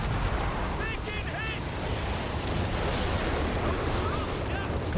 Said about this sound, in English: here comes the walking Stuka